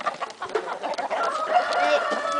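Farm chickens cluck and squawk in a busy, agitated chorus of overlapping calls, close and loud, with a rising excited cackle toward the end.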